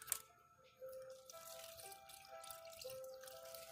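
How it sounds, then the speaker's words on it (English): Water trickles and drips faintly as a houseplant is watered indoors, a quiet running pour lasting a few seconds with no talk over it. "We're gonna water this pretty right here."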